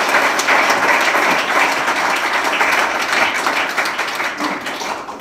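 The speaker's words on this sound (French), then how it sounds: "je pense qu'on peut l'applaudir très chaleureusement" An audience at a French awards evening applauding warmly: dense, sustained clapping from many hands that fills the room evenly, with no voices over it.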